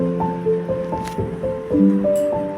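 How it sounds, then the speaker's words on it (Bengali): Lentil fritters (musur dal bara) are dropped into a pan of frying spiced masala with potatoes, giving several close, wet squishing and soft splattering sounds against a steady tonal background hum, with no talking. "এবার আমি বড়াগুলো দিয়ে দিলাম"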